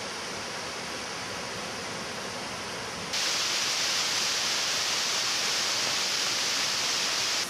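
Steady roaring rush of Oshinkoshin Falls in Shiretoko, Japan, broadband and constant, growing noticeably louder and brighter partway through, with no voices.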